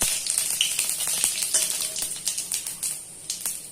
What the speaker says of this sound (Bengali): এবার এই ফোড়নের মশলাটা দিয়ে দিলাম। একটু ফ্রাই করে নেব